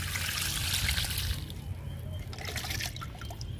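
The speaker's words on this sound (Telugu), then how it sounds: "రోహియో ప్లాంట్కి వాటర్ ఇస్తున్నాను." Water trickling and pouring from a can onto a potted Rhoeo plant that was freshly given compost, a steady close splash and dribble that thins after the first second and a half.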